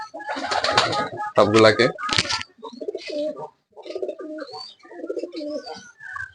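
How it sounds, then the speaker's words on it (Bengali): Domestic pigeons coo in soft, repeated low calls close by, while someone talks over and between them and a louder burst of handling noise opens the scene. "এখন কবুতর গুলাকে ছাড়বো"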